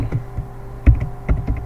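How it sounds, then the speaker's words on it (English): Computer keyboard typing in short, uneven bursts of crisp clicks, with a heavier cluster of keystrokes near the middle and another toward the end, close and fairly clear with no talking. "And I'll just start typing."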